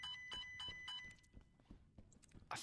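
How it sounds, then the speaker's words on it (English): An electronic alarm sounding in the tactical shooter Ready or Not, repeated high shrill beeps heard faintly at a distance, mixed with footsteps and scattered gameplay sounds. "It's just an alarm."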